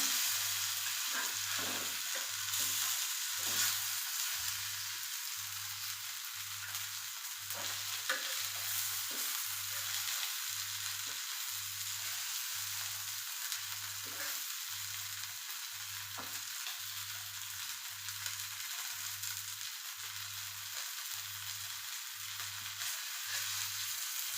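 Mackerel (bangude) fish cooks on a tawa with a soft, steady sizzle, joined by a low rhythmic pulsing hum that repeats throughout at an even pace.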